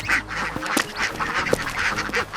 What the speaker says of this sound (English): Hello, I am a duck.